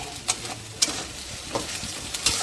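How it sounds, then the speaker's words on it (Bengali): Ginger, garlic and chili paste sizzling and frying in a pan, with a steady crackle broken by a few sharp scrapes of stirring spaced through the clip; no voices. "মশলাটা ভালো করে কষিয়ে নেবে"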